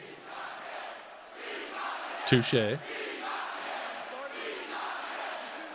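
A WWE SmackDown arena crowd roars and chants in a steady, loud wash of noise, while someone speaks briefly over it.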